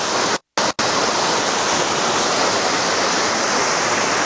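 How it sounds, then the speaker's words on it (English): A stream drops and rushes over eroded soil in a steady, loud, broadband wash of flowing water, broken by a brief cut near the start. "if you look where the water takes a drop here, if you notice it, the water is running under the soil"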